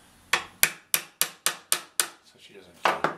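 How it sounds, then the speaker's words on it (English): Hammer tapping on a sculpture to tighten it, about eight sharp metallic knocks in a steady rhythm, close and loud, with a short pause before the last two strikes. "And I just use a hammer to tighten her up"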